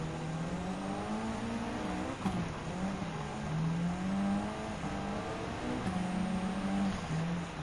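A Mitsubishi Lancer Evolution X engine in Gran Turismo 7 drones and revs continuously, its pitch rising and dipping as the car accelerates and eases off through turns, loud and close.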